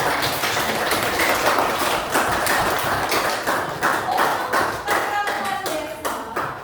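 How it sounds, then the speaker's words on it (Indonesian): A school class clapping together at the end of a lesson: loud, close group claps with a rough shared rhythm and some sharper taps, continuing without a pause. "Tepuk tangan dulu untuk kita semua."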